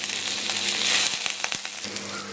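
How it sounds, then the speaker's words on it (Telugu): Onions and curry leaves fry in a pan with a steady, close sizzle, a bright crackling hiss that swells briefly then settles, with a few sharper pops throughout and no talking. "ఆనియన్స్ లైట్గా ఫ్రై అయిన తర్వాత కొంచెం కరివేపాకు వేసుకోవాలి"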